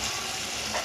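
Ground dal paste sizzling in a hot pan for a cholar dal and ridge gourd dish, a brief, close and even frying hiss with no voices.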